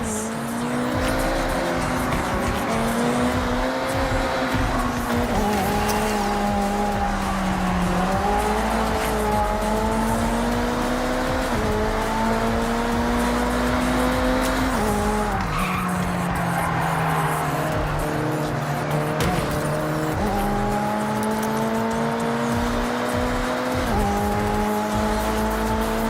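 Forza Horizon race cars roar with steady, rising and falling engine tones throughout, tires squealing through corners, loud and continuous with no pauses.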